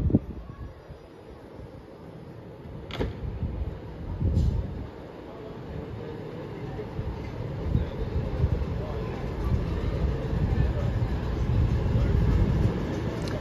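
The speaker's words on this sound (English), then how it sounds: "Now arriving on platform number 4 at Birmingham International is your slightly delayed 11:13 1 Oscar 12 cross country service from Manchester Piccadilly to Bournemouth." A CrossCountry Class 221 diesel train arrives at Birmingham International, heard as a low rumbling rise under steady wind noise on the platform, growing gradually louder with a couple of sharp clicks.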